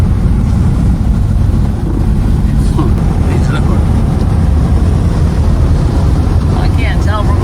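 Bullet Nose Studebaker with a three-on-the-tree column shift cruising along, heard from inside as a steady, loud low engine and road drone that never lets up, with faint voices underneath.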